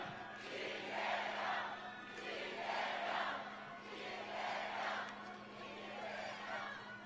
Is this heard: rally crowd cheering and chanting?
yes